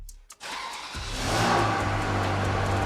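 An abandoned Ferrari 360 Spider under rebuild, its mass airflow sensors disconnected, starts up and revs; a brief catch is followed by a loud, close, steady engine roar that swells and holds, with no talk.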